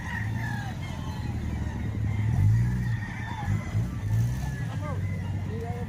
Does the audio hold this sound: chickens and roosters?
yes